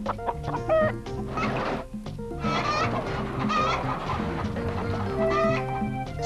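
Chickens cluck and squawk close by in a steady, busy chorus, with a rooster-like call rising over the flock.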